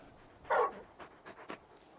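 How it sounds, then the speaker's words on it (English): A large dog companion in Final Fantasy XVI pants and gives a short whimpering whine, then a few soft breathy snuffles, close and alone with no talk. "You're just a big puppy, aren't you? A very big puppy."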